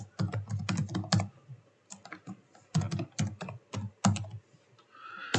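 Fingers type an email address on a computer keyboard in quick irregular bursts of crisp, close key clicks, broken by short pauses between words.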